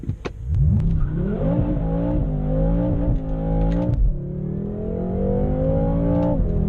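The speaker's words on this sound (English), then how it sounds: "That was the smoky burnout start." A 2017 BMW M6 Gran Coupe Competition does a smoky burnout launch in first gear, its engine roaring loud and close as revs climb steadily over several seconds, with a brief shift-like dip before pulling hard again.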